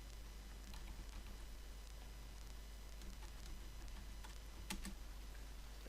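Soft, rapid clicking of keys on a computer keyboard, faint and steady for several seconds over a constant low hum, with a couple of slightly sharper taps near the end.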